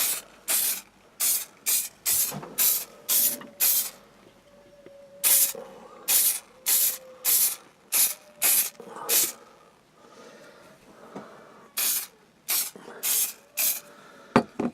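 Repeated short bursts of varnish from an aerosol spray can hiss in quick succession over a wooden decoration, with brief pauses between groups, close and loud.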